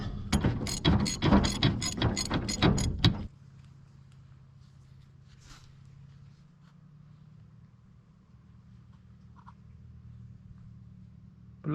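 A ratchet with a large socket clicks rapidly for about three seconds on a Soviet K-700 A tractor, loud and near, then stops, leaving a faint low hum and scattered small knocks.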